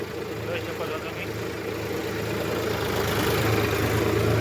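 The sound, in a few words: tractor engine running in a field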